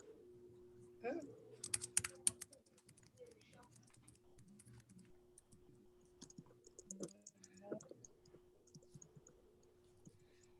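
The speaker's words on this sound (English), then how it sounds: "I just typed it" Light tapping on a computer keyboard during a Zoom call, bursts of quick clicks with pauses between, fairly close and soft, with a low steady hum underneath.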